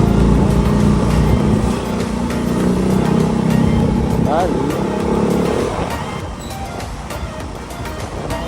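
A motorcycle engine strains and drones while climbing an uphill road toward Over The Top in Angono, Rizal, loud and close with wind noise, then easing off near the end.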